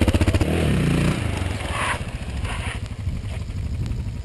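Motorcycle riding in a parking lot, a close engine with a throbbing low pulse that revs then settles while slowing and braking, with some clatter and scraping textures over it.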